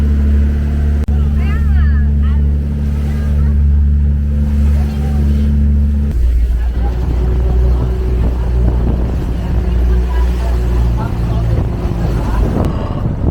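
A motorboat engine drones steadily at speed off Palawan, Philippines, then shifts to rushing water and wind buffeting the microphone, loud and close throughout.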